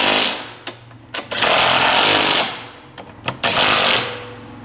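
Power tool tightening bolts on a CFMOTO CFORCE 1000 ATV during assembly, loud bursts of rattling impact-driver noise separated by short pauses, up close with no talk.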